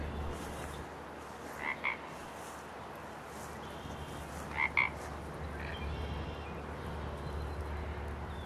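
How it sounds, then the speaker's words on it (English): Two short croaks from a frog at a small pond, a few seconds apart, over a steady low outdoor hum. "But you can hear the frogs and the birds."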